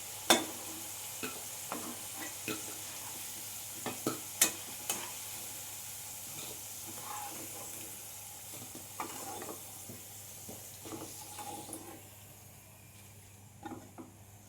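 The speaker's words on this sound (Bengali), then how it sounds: "আলুগুলো ঠিক এইভাবে ভেজে নিতে হবে" Potatoes fry in oil in a pan, a soft, steady sizzle with light stirring and a few sharp utensil clicks near the start, fairly quiet and close, with no talking.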